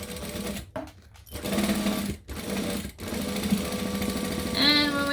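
A sewing machine stitches along a line in short running bursts separated by brief pauses, whirring close and clear, with a faint voice under it near the end.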